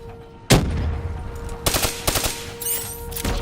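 A turret in Call of Duty Black Ops 3 opens up with a sharp burst, then rattles out rapid machine-gun volleys in clustered bursts, loud and close, alone without talk.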